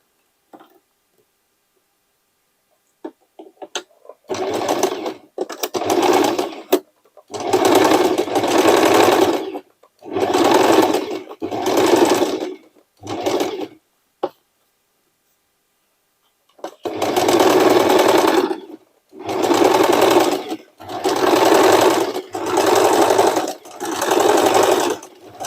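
A sewing machine stitches a double seam on upcycled shirts and jeans, running in several distinct bursts of steady whirring, each a second or two long, separated by short silent pauses, close and clear.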